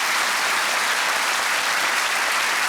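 Dense, steady audience applause in a television studio, a continuous wash of many hands clapping at full loudness without pauses or talk.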